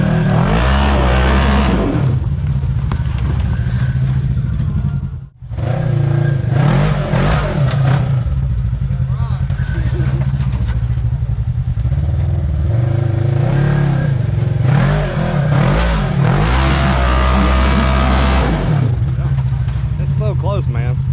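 An off-road vehicle with a fairly stock 1000 engine revs and growls steadily while crawling up a rocky trail ledge, with a continuous loud drone and changing throttle and a brief dropout partway through, under people talking.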